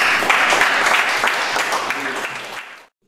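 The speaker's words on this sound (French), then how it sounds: "Bravo, on l'applaudit en passant." An audience applauds Yvon at a slam poetry workshop, a dense, steady wash of clapping that holds for nearly three seconds before cutting off abruptly.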